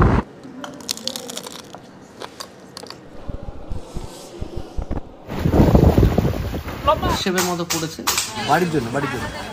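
Sea and wind at a beach resort in Mandarmani, Bengal: steady gusty wind buffets the microphone over a broad wash of surf, louder in the second half, with scattered knocks and faint voices mixed in.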